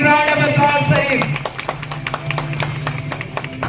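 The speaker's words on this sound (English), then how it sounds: "Big round of applause for him." Applause and clapping from an audience at a school award ceremony, a dense patter of claps continuing steadily for a few seconds while a voice speaks over the start.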